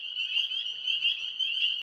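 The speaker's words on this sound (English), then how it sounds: "those tree frogs are loud. They're right up above me." Tree frogs croak loudly from directly overhead in a steady, continuous chorus at night, with a dense, unbroken high-pitched trill and no voices.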